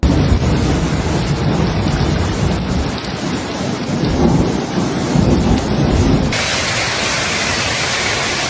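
A sudden hailstorm in Phoenix roars as dense rain and ice pelt surfaces, with rumbling thunder rolling underneath; the downpour stays loud and continuous, thinning slightly toward the end.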